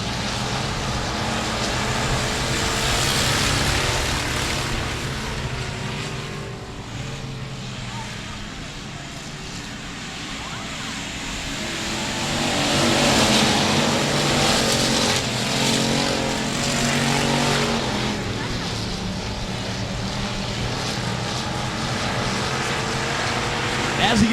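Factory stock race cars roar around a dirt speedway at night in an A-Main, their engines swelling and fading as the pack passes, with a track announcer talking over the noise throughout.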